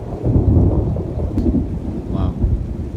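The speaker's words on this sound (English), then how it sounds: "It's thundering like crazy." Deep, rolling thunder rumbles loudly and continuously through a rainstorm on a rainy-day ride in Alberta, with rain hissing steadily underneath.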